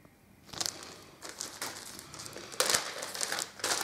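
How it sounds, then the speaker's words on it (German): Sticker packaging, ABC and number stickers, being unwrapped: crisp plastic crinkling and rustling in repeated bursts, louder near the end, close by with no talking. "Und auch hier packe ich sie aus."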